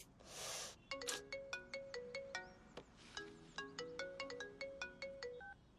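A telephone ringtone plays a bright repeating electronic melody of quick chiming notes, fairly faint, after a short burst of noise at the start.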